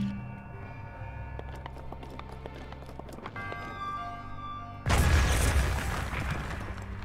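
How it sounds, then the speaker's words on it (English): Bombs go off in The Legend of Zelda: Breath of the Wild, a sudden loud, close blast near the end that rolls into a sustained rumbling roar after a stretch of quiet game music. "Take cover! Pretty potent bombs."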